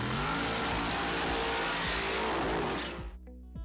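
Top Fuel drag racing cars roar at full power in a loud, dense, continuous engine blast that cuts off abruptly near the end, leaving faint lower rumbling.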